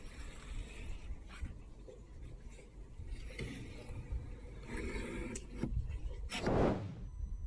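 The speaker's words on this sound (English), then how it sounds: "Take a large flathead screwdriver, and go through the window channel" A large flathead screwdriver scrapes and clicks through the window channel of a Jeep Commander door, a run of close, irregular rubbing and ratcheting sounds with a sharper scrape near the end.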